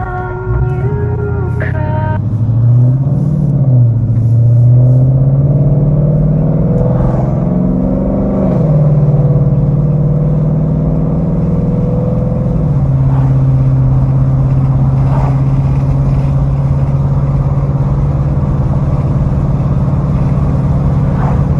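Ford Mustang GT with a Powerlab Performance burble tune, the V8 exhaust rumbling loud and close, revving up and settling back with crackles and pops scattered through the idle.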